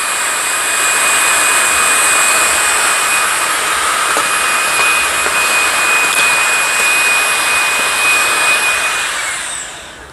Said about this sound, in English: Vacuum this piece out.